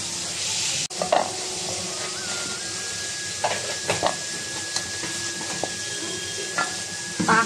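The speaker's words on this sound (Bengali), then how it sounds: "কাঁকড়াগুলো ভাজছো" Crabs fry in a pan with a steady close sizzle, broken by scraping stirs and clinks of a utensil against the pan.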